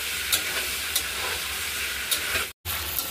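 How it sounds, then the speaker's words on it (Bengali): Onions being stirred and fried in a pan while making chilli chicken, a steady close sizzle and hiss with a few soft stirring scrapes, broken by one brief silent gap near the end. "এবার পেঁয়াজটাকে আমি নেড়ে চেড়ে ভালো করে একটু ভেজে নেব।"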